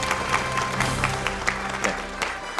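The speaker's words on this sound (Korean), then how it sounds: "박수 한번 주시죠." An indoor audience claps for a winner at a quiz award ceremony, a dense, steady patter of many hands at moderate distance, continuing evenly with faint voices underneath.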